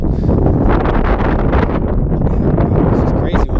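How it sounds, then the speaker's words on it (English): Strong wind buffets the microphone out on a frozen lake during ice fishing, a loud, steady roaring rumble that fills the whole stretch with gusty rustling and no letup. "it's just crazy windy today"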